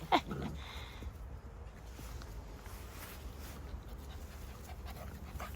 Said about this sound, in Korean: 우리 블랙탄 강아지